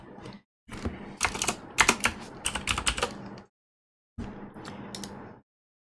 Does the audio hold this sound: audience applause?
no